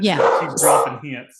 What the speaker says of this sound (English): Dog doesn't want to be left out.